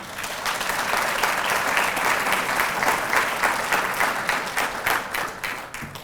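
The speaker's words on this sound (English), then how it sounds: "But I hope you continue applauding" A large university convocation audience applauds, a full, sustained roar of many hands that swells early, holds steady, then starts to break into looser, fading claps near the end.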